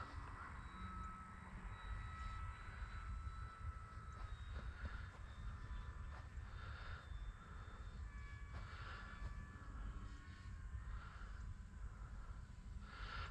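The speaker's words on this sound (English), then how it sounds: "This is a really fun plane." A radio-controlled model airplane with an 1100 mm wingspan drones steadily overhead, its whining motor pitch rising and falling as it passes, with wind noise rumbling throughout.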